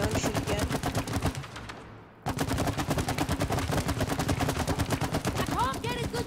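Rapid bursts of gunfire from the It Takes Two video game crackle loud and close almost throughout, pausing for about a second midway before resuming, with voices talking over the shots.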